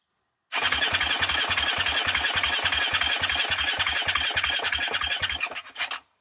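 A Husqvarna 701 Enduro motorcycle that died on a rally, with a fuel-line problem, cranks on its starter: a loud, even chugging rhythm of rapid compression pulses and a whining starter for over five seconds, never catching, then stopping.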